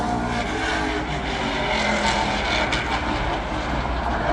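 A race car accelerating on the oval at Delaware, Ontario during qualifying makes a loud, continuous engine roar with steady wind and track noise and no break.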